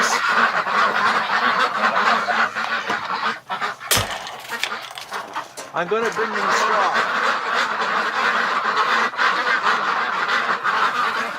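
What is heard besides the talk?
ducks honking in their pen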